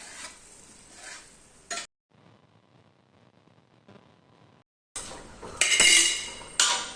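A spoon stirs greens sambar in a pot, giving scraping and clinking of metal against the vessel in short bursts at the start and end, separated by a quiet stretch, close to the listener.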